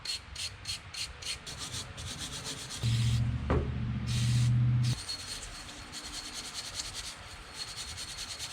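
Brass brushes rub and scrub scroll chuck parts in quick repeated strokes, with a louder, steadier stretch of scrubbing in the middle before the rhythmic short strokes resume, close up with no speech.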